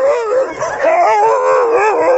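An old dog howls in a long, wavering, mournful tone that rises and falls, close and loud, with no talking.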